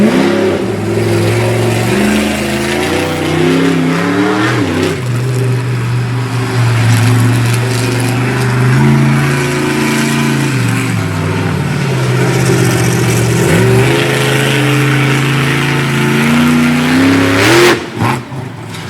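A monster truck engine roars loudly throughout a freestyle run at a Fredericksburg, Virginia event. The revs rise and fall in continuous surges with no pause, and a sharp impact-like break comes near the end.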